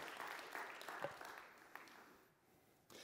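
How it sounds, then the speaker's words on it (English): A church congregation claps together during a sermon, a steady wash of applause at fairly low level that thins out and dips near the end before briefly swelling again. "Yeah, go ahead and give him a clap."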